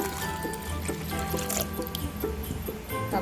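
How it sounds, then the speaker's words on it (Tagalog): Water poured into a bowl of puto batter with egg yolks for Christmas puto with cheese, a short liquid trickle and splash lasting a few seconds, close and alone. "Tapos, lagay natin ng tubig."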